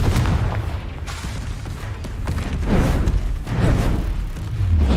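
Confringo blasting-spell explosions in Hogwarts Legacy, a series of heavy booming blasts with deep rumbling low end, loud and close, swelling and falling repeatedly over the whole stretch.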